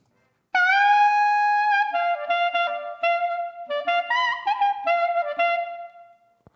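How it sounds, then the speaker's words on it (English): Clarinet solo licks from a horn mix, a bright reedy line of rising and falling held notes and quick runs, loud and close, played alone after a brief silence and fading near the end. "Let's hear this clarinet for a second."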